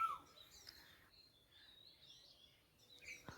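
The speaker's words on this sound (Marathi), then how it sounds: "ही खरोखर पक्ष्यांच्या आजूबाजूच्या आमच्या इकडच्या पक्ष्यांचे आवाज आहेत" Small birds chirp and call faintly in a quiet village setting in Konkan, with a few thin tweets and whistles over a hushed background.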